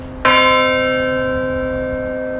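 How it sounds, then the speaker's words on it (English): A single church bell struck by a lever-driven arm rings out loud and close, its bright tone hanging and slowly fading for about two seconds with no other sound. "you see these little levers that attach to arms that reach over to the bells,"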